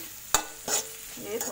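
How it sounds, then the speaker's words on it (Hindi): Egg chilli frying in a pan with chili powder and salt for a restaurant-style dish, heard as a few short scraping stirs and bursts of sizzle over a low steady frying hiss. "थोड़ा सा चिल्ली पाउडर डाल के फ्राई कर लिया है मैंने।"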